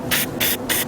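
A spray paint can fires short hissing bursts onto a glass vase, three even, close puffs in quick rhythm, loud and crisp with no talking.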